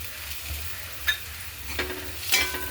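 Green chili, garlic and salt paste sautéing with onion in a pan for a dry potato dish: a steady soft sizzle with a few scraping stirs near the end.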